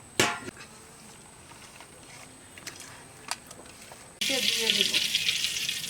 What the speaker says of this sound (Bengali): মাখার পর আমরা তেলে মাছটা আগে ভাজি করে নেব